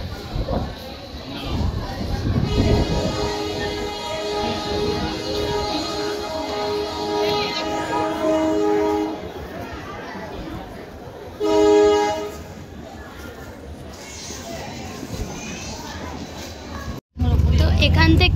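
Train at Rameswaram railway station, with a sustained horizontal tone pattern like a horn or brake squeal around the middle and a short loud blast near the end, over steady station rumble and people talking.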